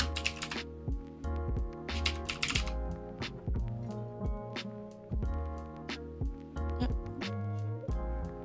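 Code typed out on a computer keyboard during development of a small escape room game, with brisk close clattering keystrokes in irregular bursts and short pauses, and no speech over them.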